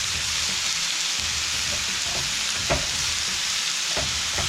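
Sliced vegetables sizzle on a hot Blackstone griddle while jambalaya is cooked, giving a loud, steady frying hiss with a few soft scrapes and taps close by.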